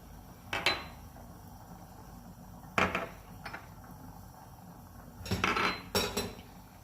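Spoon scraping and clinking against a bowl while red chili powder and spices are stirred into lemon juice, a few separate bursts of clatter with quiet gaps between.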